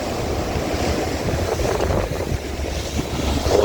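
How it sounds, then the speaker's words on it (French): Rough, stormy sea at Marzamemi surges and crashes steadily while strong wind buffets the microphone with a constant low roar. "la mer, elle est bien déchaînée, là."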